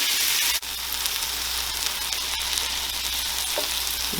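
A burger patty topped with cheese and onions fries in a pan with the heat just switched off, giving a dense, steady close-up sizzle and a few brief clicks of utensil contact.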